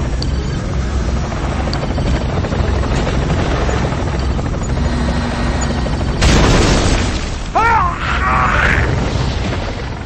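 An airship bombing a base in Red Alert 2 gives a heavy rotor-like drone throughout, then a loud booming explosion burst near the end, with sweeping tonal effects after it.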